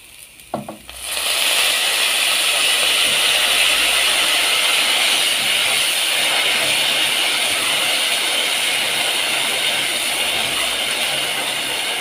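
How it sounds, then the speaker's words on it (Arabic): Boiling water poured onto rice already coated in hot oil erupts into a loud, dense sizzle that holds steady for over ten seconds, with no voices. "وبعد كده بقى هنزل بميه مغليه"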